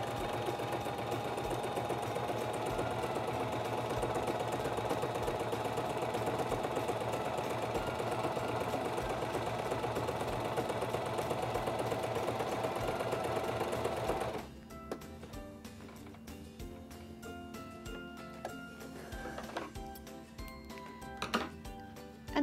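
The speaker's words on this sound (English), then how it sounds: "So I'm going to test sew it out." A SINGER 2273 Esteem II sewing machine runs steadily while test-sewing a feather stitch, a close, even mechanical whir that stops partway through, followed by scattered quiet clicks and handling noises.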